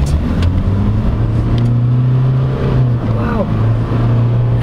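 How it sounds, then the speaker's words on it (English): A 2023 Ford Ranger Wildtrak 4x4 with a 10-speed automatic accelerates at full throttle, its engine a loud, steady drone with rising tones heard from inside the cabin. "Right, when you floor it,"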